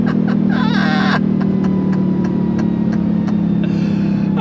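A Dodge Challenger Demon 170 on throttle, a loud, steady engine drone from inside the car as the tires break traction, with a brief high squeal early on.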